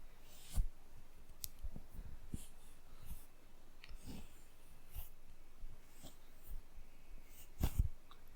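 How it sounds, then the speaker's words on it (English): Soft, close brushing of a comb drawn through hair during a haircut, a series of faint scratchy strokes and light clicks spread irregularly over a quiet background, with a brief cluster near the end. "just comb through here"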